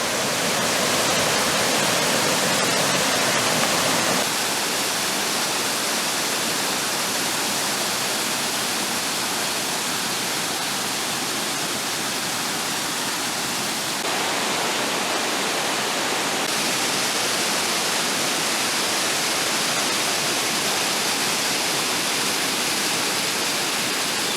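A waterfall with only a little water running roars as a steady, dense broadband wash, close and constant throughout with no voices.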